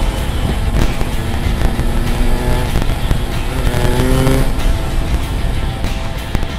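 A blue 2004 Yamaha RX King motorcycle with stock engine and stock exhaust, two-stroke engine droning steadily and loud throughout while cornering on a mountain road, with pitch shifts as it revs.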